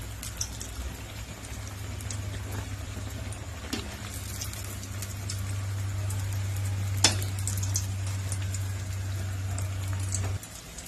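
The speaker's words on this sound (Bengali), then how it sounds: "তো এই দেখো এইভাবে ভেজে নিয়েছি আমি, খুব সুন্দর হয়েছে ভাজাটা।" Mango pitha batter frying in hot oil gives a continuous close crackling sizzle, with a few sharper pops and a low steady hum beneath, ending abruptly.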